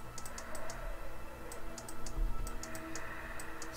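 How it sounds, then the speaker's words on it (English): Repeated mouse clicking during a session of the game Tulpa, sharp little ticks in short clusters of two to four, close-miked over a soft background hum, no voice present. "I have to just keep clicking."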